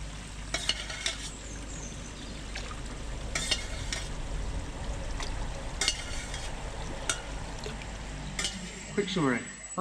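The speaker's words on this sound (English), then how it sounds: "spooned it round to circulate it and evenly mix it into the pond water" A spoon swirls fluke treatment through garden koi pond water outdoors, giving soft, continuous watery stirring and sloshing with scattered brief splashes, fairly quiet against steady background noise.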